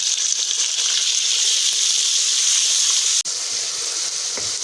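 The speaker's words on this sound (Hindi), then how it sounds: "कीमे को इतना भूनना इसकी शक्ल चेंज हो जाए और स्मेल ख़त्म हो जाए।" Minced beef frying in a pan with garlic and ginger, a steady loud sizzle and hiss that holds throughout with a brief dropout near the end.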